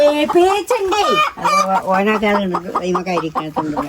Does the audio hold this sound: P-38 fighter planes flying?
no